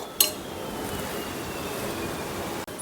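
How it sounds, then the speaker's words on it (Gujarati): A hot pressure cooker's lid, with its whistle removed, is shut on a gas stove while baking nankhatai. One sharp metallic clink comes near the start, then a steady low background hiss. "તો કુકરનું ઢાંકણ હવે આપણે બંધ કરી લઈશું"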